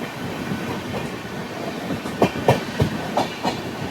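Train rolling into Ayodhya in the early morning, steady rumble with a run of rhythmic clickety-clack wheel beats over rail joints toward the end, close and fairly loud.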